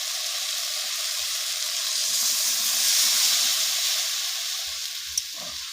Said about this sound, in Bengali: এখন আমি সামান্য জল দিয়ে দেবো।